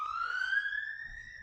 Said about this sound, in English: That's the third siren.